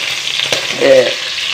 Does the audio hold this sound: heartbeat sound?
no